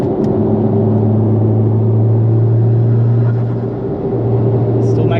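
Mitsubishi Evo X running an E85 tune with a turbo, its engine droning loud and steady with a strong low hum that dips briefly before carrying on.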